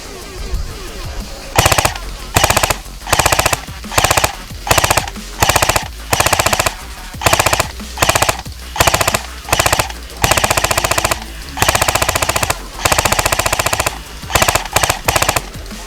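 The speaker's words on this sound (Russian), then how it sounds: "А сейчас мы немного постреляем из нашего привода по нашей мишени." An A&K PKM airsoft electric machine gun fires at a target 30 metres away in repeated full-auto bursts of rapid mechanical clatter, roughly a dozen bursts separated by short pauses, loud and close, with no talking.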